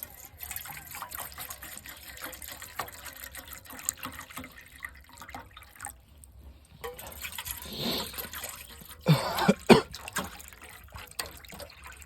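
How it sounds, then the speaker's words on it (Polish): Water being poured, a faint trickle through most of the stretch that swells into a brief louder gush near the end, heard up close with light handling noise and no speech. "Lejemy wodę."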